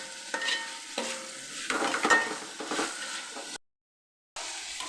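Whole spices—cloves, cinnamon, cardamom and peppercorns—stirred in a hot pan for Thalassery chicken dum biryani, giving soft crackling sizzles and scraping stirs in uneven bursts, close by, with a short silent gap near the end.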